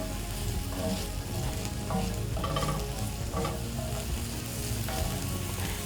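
One large onion frying in a cast iron pan for minced beef, a steady close sizzle and crackle with occasional stirring scrapes running throughout, no voices.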